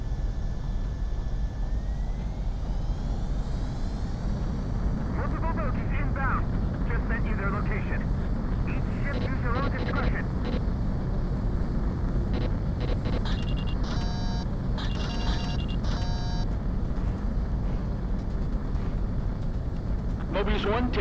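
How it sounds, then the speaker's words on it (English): Fighter jet on the runway in the VR flight game Ace Combat VR, a loud continuous engine roar throughout with rising whine and radio-style voices talking over it, plus intermittent electronic cockpit beeps. "Mobius 1, you were cleared for takeoff."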